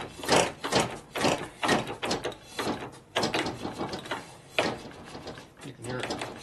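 A motorcycle wheel is turned by hand on a 2001 Indian Scout with a big-bore 88ci S&S motor, its brake pad releasing with repeated mechanical clicking and whirring in uneven strokes. The sound is close and moderately quiet, with speech mixed in.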